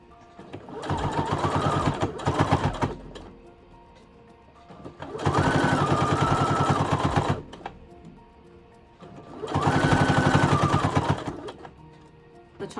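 A sewing machine stitching the handle onto a scrappy, patched, quilted bag runs in three steady whirring bursts of a few seconds each, loud and close, with brief quiet pauses between them.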